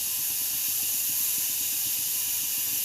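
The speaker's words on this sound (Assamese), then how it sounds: "ভাপ ওলাই আছে।" Steam escapes with a steady, close hiss while Assamese hata pitha rice cakes cook over a pot, an even, unbroken rush with no other sounds.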